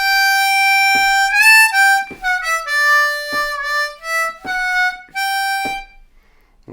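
A slow blues harmonica lick on a C harmonica, played alone in separate phrases. Sustained reedy notes bend and slide between pitches, and short breathy gaps fall between the phrases.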